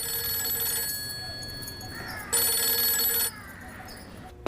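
A telephone rings in a tense thriller film scene, its electronic tone looping steadily over quiet background sound and growing louder midway before dropping back.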